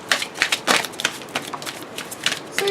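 Brisk, crackly riffling of tarot cards being shuffled, a burst of rapid papery flicks repeating several times, close by with no talking.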